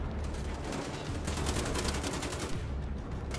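Sustained rapid gunfire in the video game Wolfenstein: The Old Blood, a dense rattling burst of shots that runs without a break at steady loudness.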